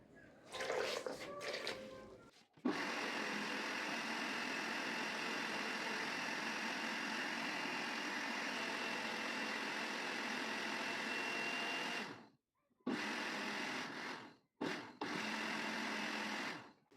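A blender whirs steadily at high speed for several seconds, stops briefly, then pulses on twice more in short bursts, loud and close.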